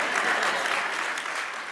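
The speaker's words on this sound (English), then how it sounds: "Somebody actually started clapping." Applause from a live audience at an onstage conversation event, a steady wash of many hands clapping throughout, fairly loud and close, without speech over it.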